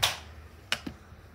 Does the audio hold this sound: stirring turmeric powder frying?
no